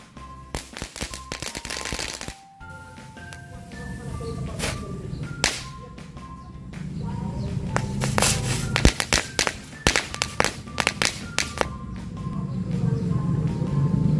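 Mini smoke stick firecrackers going off in a burst of sharp, loud cracks and pops, dense at first, then scattered bangs over a hissing, fizzing background, close by, no talking.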